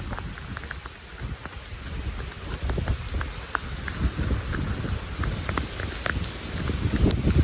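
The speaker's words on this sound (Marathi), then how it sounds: "आळंदी पण नाही भेटत. पाऊस पण आला." Rain falls steadily in the countryside, a dense hiss dotted with sharp individual drop ticks, growing slightly heavier toward the end.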